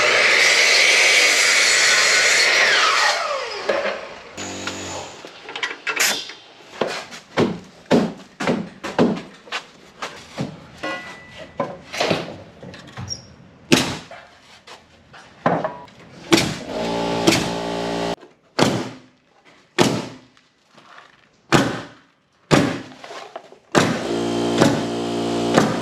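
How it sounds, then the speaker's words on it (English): Workers chip out tile during a restaurant build, with a sharp rapid burst of tool noise at first, then a long run of loud, irregular clacks and knocks close by, each separated by short gaps. "They are chipping some tile out right now."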